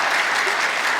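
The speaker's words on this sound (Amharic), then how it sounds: "እስቲ አጨብጭቡላት ሴቶች።" Applause rises from an audience of women for a heroic woman honored with a Hyundai car award, a steady dense clapping that holds loud for about a second.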